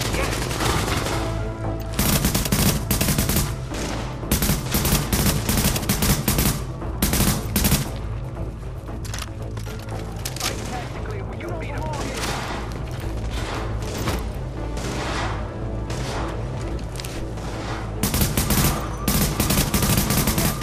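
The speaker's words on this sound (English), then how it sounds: "Just wait until he stops firing." Enemy automatic gunfire at the Lincoln Tunnel Checkpoint in The Division, with loud, rapid bursts of rattling shots that come in waves over about twenty seconds, separated by short lulls.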